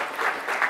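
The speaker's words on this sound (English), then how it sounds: "So a round of applause for Chris." Brief burst of audience applause for a presenter at a tech conference session, a quick patter of many hands clapping in a hall.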